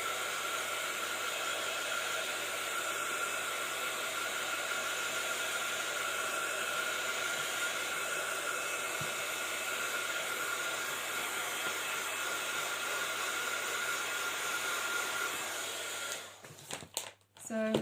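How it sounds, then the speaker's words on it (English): A heat gun blows steadily over a mixed media card, a continuous loud whooshing hiss that holds for most of the time before cutting off abruptly near the end with a few clicks. "At this stage, I will have to use the heat gun"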